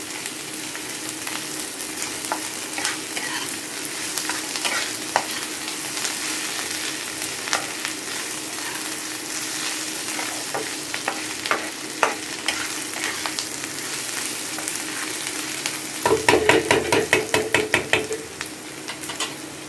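Onions and chilies frying in oil for dal tadka, a continuous close sizzle broken by scraping stirs of a spoon against the pan, with a louder burst of rapid clattering stirs near the end.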